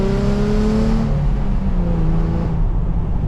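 A Nissan 350Z Roadster engine revs and accelerates loudly and up close, its pitch climbing in steady rising sweeps with a constant low rumble underneath.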